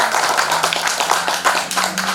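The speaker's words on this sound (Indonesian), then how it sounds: "kita beri tepuk tangan yang meriah untuk kita semua" Audience at an Indonesian halal bihalal gathering claps hands together, a dense steady patter of many hands close by, with a low hum underneath and no talking.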